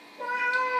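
A cat meows once, a drawn-out, strongly tonal call that swells after a soft start and carries clearly with no voices over it.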